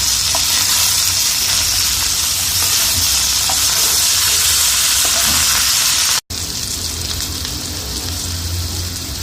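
Karela (bitter gourd) stuffed with keema fries in a pan, a loud, continuous crackling sizzle holding steady, with one instant dropout near the end and no voices.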